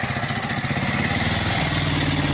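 A motorcycle engine runs nearby in a continuous, steady rumbling drone that holds at the same level throughout, with no voices over it.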